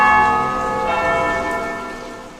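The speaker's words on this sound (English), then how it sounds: "When you hear the noon bells tolling, it's time for Angelus" Church bells tolling at noon for the Angelus, a rich sustained ringing tone with long harmonic overtones that slowly decays, loud and alone.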